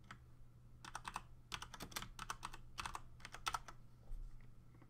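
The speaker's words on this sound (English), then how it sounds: "We can type some description here," Rapid typing on a computer keyboard, bursts of clicky keystrokes in quick clusters with short pauses over a low steady hum, close and clear, no talking.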